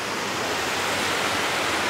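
Water at a Jamaican resort gives off a constant broadband rush, like surf or flowing water, loud and close and unbroken for a couple of seconds, with no talking.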